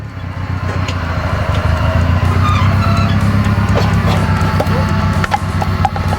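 Kenny's 4x4 vehicle working slowly through a tight off-road track challenge at Spookspruit, a loud steady low engine drone with crunching, cracking knocks of branches and terrain, close and continuous.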